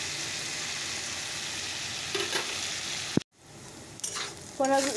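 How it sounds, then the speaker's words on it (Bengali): Bitter gourd sizzles steadily in a frying pan, a dense crackling hiss broken by a sharp knock around the midpoint, followed by brief stirring scrapes and faint voices near the end. "করলাগুলো ভাজা হয়ে গেল"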